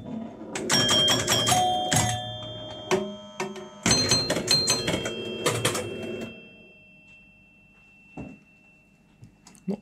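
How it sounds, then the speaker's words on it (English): Electromechanical chimes from a 1973 Williams pinball machine ring loudly in two dense, rapid flurries of tones, then fall to a few scattered, fainter strikes. "unplug the chimes because they're ridiculously loud"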